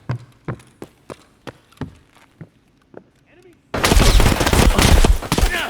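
Gunfire in Escape from Tarkov on The Lab map, with an HK MP7A2 submachine gun in play: a series of sharp single shots at a steady, spaced rhythm, then a loud, dense burst of continuous fire.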